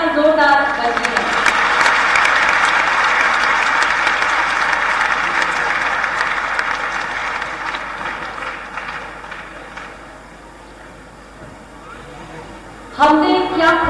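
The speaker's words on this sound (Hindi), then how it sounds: "तालियां एक बार जोरदार बजती हैं।" Loud, sustained applause from a large crowd at a memorial gathering in Bhopal, dense clapping that gradually thins and fades, ending with a sudden louder burst.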